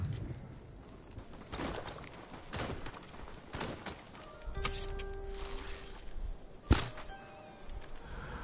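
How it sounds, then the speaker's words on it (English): An eagle in Ghost of Tsushima calls with a few thin, distant cries over quiet outdoor game ambience, along with a single sharp thunk. "I also hear one more eagle, I do not know where."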